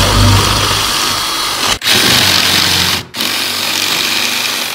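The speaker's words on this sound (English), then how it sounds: "So first step is to drill the holes." Power drill boring holes into a stone wall to mount a TV bracket, a loud continuous grinding whir that cuts out briefly twice before resuming.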